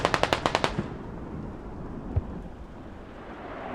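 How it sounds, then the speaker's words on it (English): A mortar barrage in the tactical shooter Squad: a quick series of about eight loud, evenly spaced blasts, then a rumbling decay and one more distant thump. "A mortar barrage coming in"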